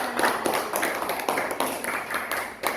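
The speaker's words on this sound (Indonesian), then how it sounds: "Tepuk tangan untuk kelompok 3." Classroom of children claps for a student group, rhythmic unison clapping in a quick repeated pattern of sharp, close claps.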